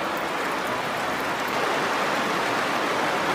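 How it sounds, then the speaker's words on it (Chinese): Steady rain falling outside a small rural house, a dense, even hiss of drops on surfaces without pauses or voices. "今天下雨啊，不好，今天有雨。"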